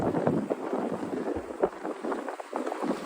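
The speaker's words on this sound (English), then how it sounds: "I pretty much have a crosswind right now. Basically, almost due west wind here." Strong west crosswind sweeping the southern Brooklyn waterfront on a cold winter day, a steady rushing buffet on the microphone with gusty low rumbles, heard alone without voices.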